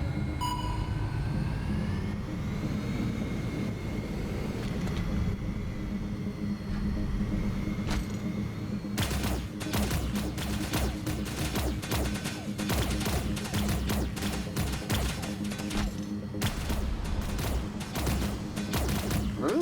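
Rapid bursts of weapon fire in the Metric Racer video game, a fast run of sharp, broadband pew-pew shots crackling over a steady engine-like drone for the second half, with no talking.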